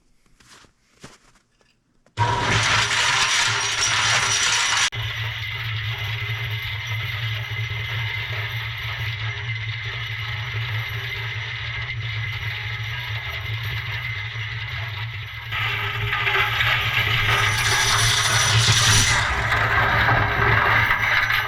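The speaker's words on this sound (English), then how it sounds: "Not only did it clean the parts, but it cleaned out the cement mixer" A cement mixer tumbles metal snowcat track parts to clean them, giving a loud, steady rumbling churn with rattling clanks and scraping that runs unbroken after a sudden start.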